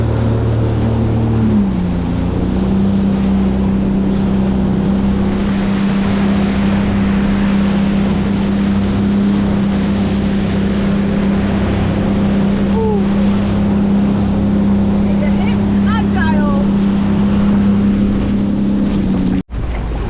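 A jet ski engine drones steadily out on open water, loud and close for the whole stretch, with wind buffeting the microphone, brief faint voices, and an abrupt cut near the end.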